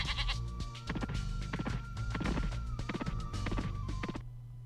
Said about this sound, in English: he's a sheep.